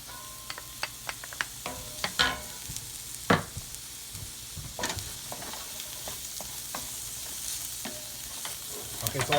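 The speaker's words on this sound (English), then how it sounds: "so while I'm sauteing" Mushrooms sauteing in a pan while a lamb chop, risotto and apple salad dinner is cooked, giving a steady close sizzle with repeated sharp clicks and scrapes of stirring, and no voices.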